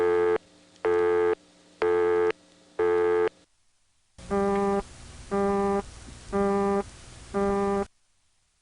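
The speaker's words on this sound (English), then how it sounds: "There was not one, but two exotic busy signals in the 670 prefix." Exotic telephone busy signal on a 670 prefix line, first four evenly spaced tone bursts, a short silence, then four more bursts with a different buzzy, harmonic-rich timbre, clear and alone.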